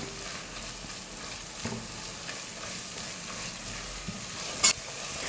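Masala sautéing and being stirred in a pan on a medium flame, a steady sizzle with soft scraping and one sharper clink near the end.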